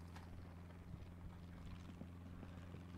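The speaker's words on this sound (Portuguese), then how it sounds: "Ó, o avião passando aí, ó" In the driving game My Summer Car, an airplane passes overhead as a faint, steady low engine drone that stays even and distant throughout.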